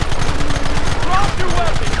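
Rapid gunfire from a shootout in Red Dead Redemption, dense overlapping bursts that stay loud and close for the whole stretch, with shouting voices mixed in.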